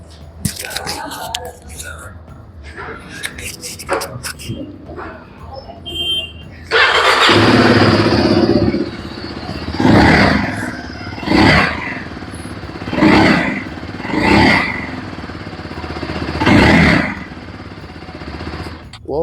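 Zontes 350X sports tourer motorcycle engine starting, then idling and being revved in several sharp bursts, loud and close, with talk before the start.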